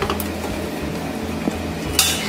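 Two metal tiffin boxes are set down inside a pressure cooker holding water, giving a soft scrape and a small knock, then a sharper metallic clink near the end, close and isolated.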